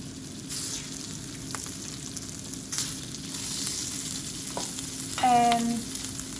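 Prawns frying in a pan of curry paste with ginger and garlic give a steady close sizzle throughout, with a few light clinks of a utensil and a brief sharper scrape near the end.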